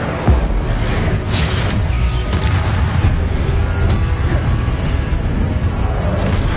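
Repeated Confringo spell blasts in the Hogwarts Legacy video game, booming explosions and crashing impacts layered over a dense, continuous rumble of combat noise throughout.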